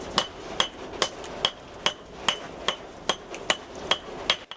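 A sculptor's hammer strikes a bush hammer against stone in a steady rhythm of about eleven sharp, ringing blows, close and evenly spaced, with no talk over them.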